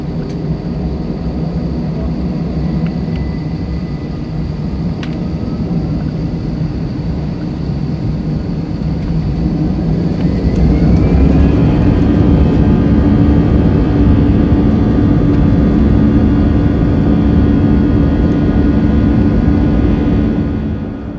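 Airplane engines drone steadily while passengers board a plane. The loud, continuous roar grows fuller about halfway through and holds to the end, with no voices.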